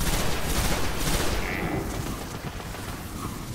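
Sci-fi shooter Destiny combat: a dense wash of overlapping gunfire and blasts, loud at the start and easing slightly toward the end, with no speech.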